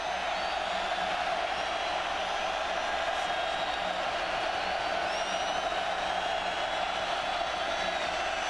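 A sellout stadium crowd roars at an Oregon State vs Oregon college football game, a constant dense wash of cheering held at steady loudness from start to finish, with no distinct voices.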